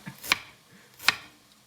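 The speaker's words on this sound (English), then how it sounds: "And you're slicing, you're not chopping or cutting." A knife slices through a vegetable on a cutting board in a home kitchen where chili is being made, giving two crisp, close cuts about three-quarters of a second apart.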